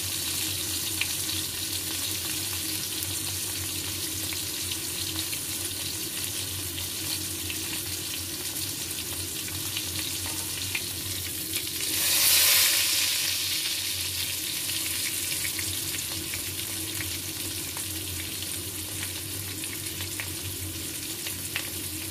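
Pork chops frying in hot oil give a steady, close sizzle throughout, with a brief louder burst of crackling midway, no voices over it.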